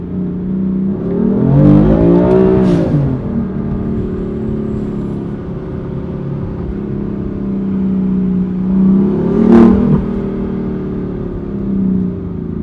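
A BMW M4 engine drones steadily nearby, rising twice into short revving surges before settling back to a deep, rumbling idle.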